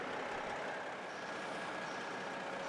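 Big army truck tires roll over and crush cheap dollar-store food on asphalt, giving a steady loud rumbling roar with a broadband crackle and no clear pauses, close by and alone.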